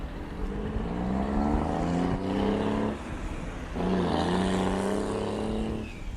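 Combustion-engine car at full power, a deep droning roar with rising and falling engine tones that swells, dips briefly near the middle, then swells again, steady and fairly far off with no talk.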